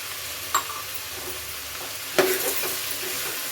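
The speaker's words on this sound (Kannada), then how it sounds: "ಈಗ ತೊಗರಿ ತೊಗರಿಬೇಳೆ ಹಾಕ್ತಾಯಿದ್ದೀನಿ 1 cup ತಗೊಂಡಿದ್ದೀನಿ" Toor dal, one cup, tipped into a hot pot while making bisi bele bath, giving two brief clattering rustles over a faint steady sizzle, with no talking.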